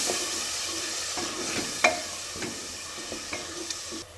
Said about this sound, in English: Stir-fry the masala.